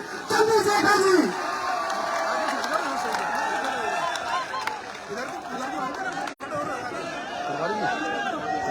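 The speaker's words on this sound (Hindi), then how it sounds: "जोरदार तालियों के साथ" A large crowd at an outdoor political rally in Alwar cheers and applauds loudly for several seconds, with a roaring wash of voices and clapping that continues steadily with a brief dropout.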